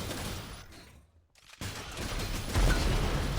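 Gunfire in the arena shooter Unreal Tournament during a competitive duel, dense sharp shots that break off for a moment of near silence and then come back louder, with no talk.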